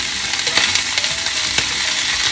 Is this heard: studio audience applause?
no